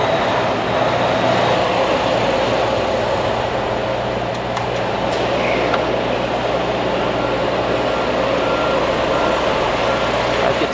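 A truck's heavy engine rumbles steadily at close range while it slowly reverses, with backup beeps barely standing out above the drone.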